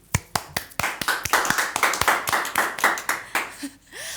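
A small group claps by hand in a quick, uneven run of close, sharp claps for a few seconds, ending with a brief voice.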